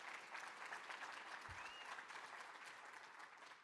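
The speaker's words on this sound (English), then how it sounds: "How about a round of applause for Jonathan Williams, his great leadership." An audience at an annual meeting's morning session claps in a sustained round of applause. The sound is steady and moderately distant, with no speech over it.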